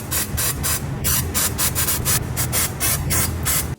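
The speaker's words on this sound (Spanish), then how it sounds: "limpia sus asientos de montaje en el soporte de la pinza" Brake caliper pad mounting seats on a car's caliper bracket being scrubbed clean, a loud, close, rhythmic rasping in quick back-and-forth strokes that runs steadily and then stops abruptly.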